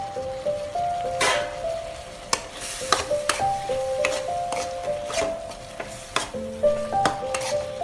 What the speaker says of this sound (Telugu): ఇప్పుడు వేయించి పక్కన పెట్టుకున్న ఈ దొండకాయలు కూడా వేసేద్దాం.